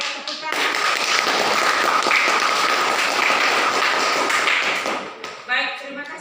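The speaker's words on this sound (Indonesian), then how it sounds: "tepuk tangan" Applause from a church class audience, a dense burst of clapping lasting several seconds, loud and close, then fading with a few scattered claps and some voices at the end.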